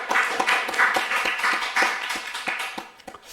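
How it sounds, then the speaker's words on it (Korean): A church congregation claps together at a Sunday afternoon worship service, a loud steady patter of many hands with rhythmic accents, sustained for a few seconds and then tapering slightly at the end. "우리 하나님께 우리 영광의 박수 올려드리겠습니다."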